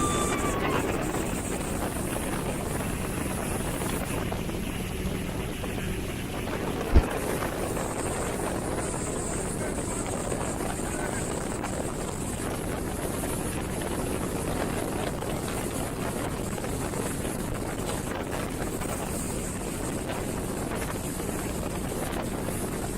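Loud, continuous roar of a 1,000-horsepower speedboat engine running at full throttle, heavily buffeted by wind noise across the microphone, steady throughout.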